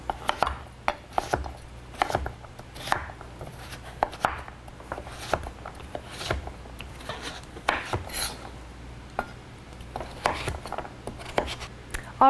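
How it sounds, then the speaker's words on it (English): Sharp knife cutting pumpkin pieces on a cutting board, a series of quick, close, crisp chops and scrapes in an irregular rhythm, fairly quiet with no talking. "So I'm gonna take each piece individually and come back through and cut right down."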